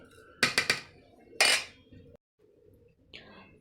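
A lid clatters onto a bowl of amla candy mixture of amla and sugar, with a few quick metallic clinks, then a heavier clank, before a quiet pause; brief faint voice near the end.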